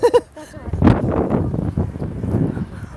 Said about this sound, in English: It's a bit windy here.